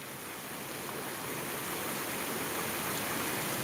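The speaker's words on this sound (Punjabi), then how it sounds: "ਫੁੱਲ ਜ਼ੋਰ ਦਾ ਮੀਂਹ ਪਈ ਜਾਂਦਾ ਬਈ" Heavy rain pours down steadily in the village of Kot Shamir in Bathinda district, a dense, loud, unbroken wash that keeps building slightly, with no voices.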